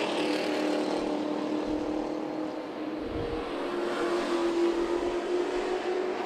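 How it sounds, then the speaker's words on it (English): Super Truck race cars accelerate on the Myrtle Beach Speedway, a dense roar of engines rising together from a distance with a steady rumble and no talking. "We've got 40 laps of Super Truck racing."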